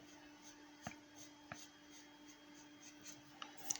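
A pencil sketching circles on paper for a side-view face drawing makes a faint, close scratching with light rhythmic taps and strokes, heard alone over a steady low hum.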